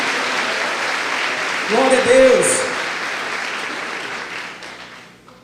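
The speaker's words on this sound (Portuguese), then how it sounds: "Então dá uma salva de palmas para o Senhor." Congregation applause at a church service fills the whole stretch as a steady broadband patter, with a voice speaking over it midway as the clapping continues.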